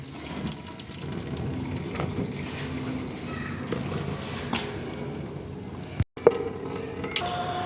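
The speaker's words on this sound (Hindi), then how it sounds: "पानी निचोड़ लेंगे अच्छी तरह से।" Boiled rice being squeezed to press out the water gives wet squishing and dripping, trickling sounds, close and moderately quiet, continuing in uneven bursts.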